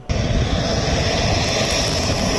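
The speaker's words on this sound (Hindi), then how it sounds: "अब आसमान में उड़ान भरने के लिए, सुरक्षित करने के लिए राफेल विमान पहुंच चुके हैं" A Rafale fighter jet flies overhead with a loud, continuous roaring engine rush that starts abruptly and holds steady, with no talk.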